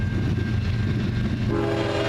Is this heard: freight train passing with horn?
yes